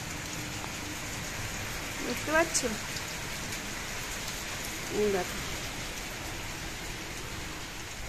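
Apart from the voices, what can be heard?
heavy rain falling during a storm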